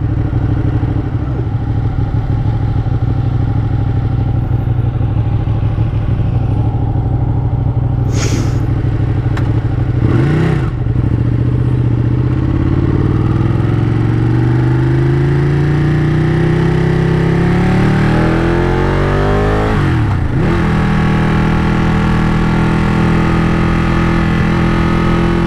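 A 2017 Ducati Panigale 959 engine drones continuously while riding, its pitch rising and falling through repeated revs and gear changes, loud and close over steady wind roar with no talk.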